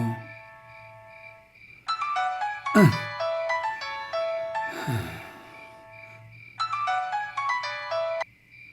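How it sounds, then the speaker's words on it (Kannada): A melodic phone ringtone plays in repeating bursts of tones, loud and close, with short breaths or gasps between the rings. "ಇಷ್ಟೊತ್ತಿನ ಯಾರ್ದು ಫೋನು?"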